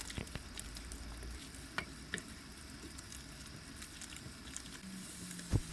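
Chopped roasted eggplant pulp and homemade spice mix cook in a pan for baingan bharta, a steady quiet sizzle under occasional light scrapes of a stirring spoon, with one louder knock near the end.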